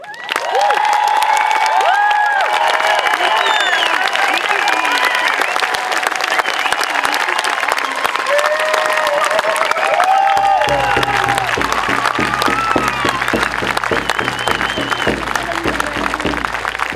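A crowd at an October rally applauds nurses, with loud, sustained clapping and some cheering filling the whole stretch, steady and dense throughout.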